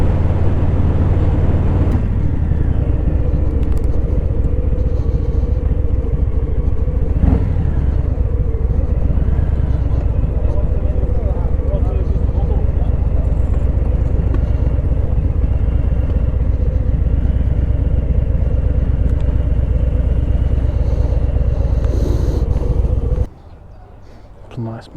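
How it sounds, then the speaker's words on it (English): A 1965 Ford Mustang Shelby races at the Zolder circuit, its V8 engine roaring loud and steady for over twenty seconds before cutting off abruptly. "It's a nice Mustang."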